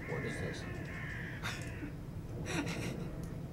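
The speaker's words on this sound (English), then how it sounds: "Some mad birds out here." Crows caw outdoors in a few short, harsh calls, moderately distant, over a steady background hum and murmur.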